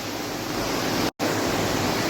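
Water rushes steadily into a fish hatchery tank, making a loud, even hiss, with a brief dropout near the middle.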